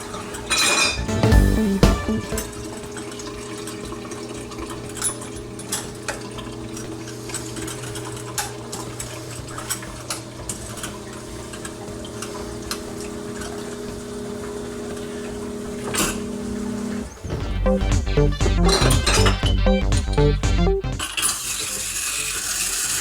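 Glass beer bottles are rinsed with water and clink against each other while home brewing. There are intermittent close clinks and rattles over a running-water hiss, and louder splashing and clatter near the end, with no speech.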